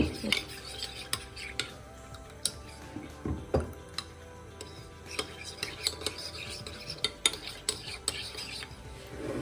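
A spoon stirs a cornstarch mixture in a bowl, giving repeated light clinks and scrapes against the sides at an uneven pace, close and moderately loud.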